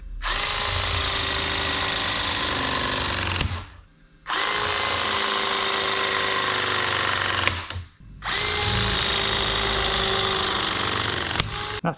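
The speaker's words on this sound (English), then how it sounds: "It's whether I can get the press gun in on that joint" A plumber's press gun crimps a pipe joint in a tight space, giving a loud, sustained motorized whir in three long bursts separated by short pauses.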